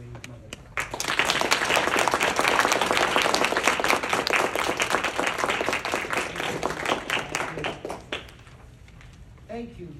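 A lecture audience applauds warmly to welcome a psychology speaker, dense steady clapping swelling quickly and tapering off after about eight seconds, with a few voices near the end.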